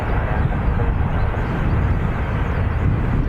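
A Ryanair airliner taking off at Dublin Airport, a steady, loud low engine roar with a broad rushing rumble, continuous and unbroken across the moment.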